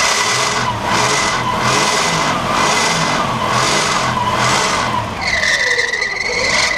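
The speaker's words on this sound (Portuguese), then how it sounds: "Vou acelerar aqui para ver se a gente consegue ouvir. Esse barulho é da correia." A rebuilt six-cylinder Chevrolet Opala/Caravan engine revs repeatedly while a worn drive belt squeals loudly, the screech rising and falling with each rev, close and alone.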